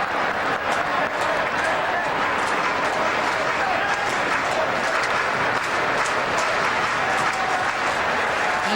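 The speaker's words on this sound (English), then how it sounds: "The Orioles fans now getting a chance to cheer." Orioles fans at a 2003 Baltimore home game against the Phillies cheer and applaud in a sustained, loud crowd roar across the whole stretch, with a broadcaster talking over it.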